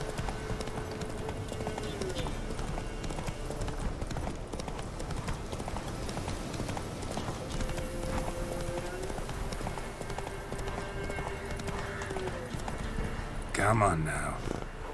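Rhythmic clip-clop of a horse galloping in The Witcher 3, steady hoofbeats running continuously under in-game music and ambience, with a brief louder burst near the end.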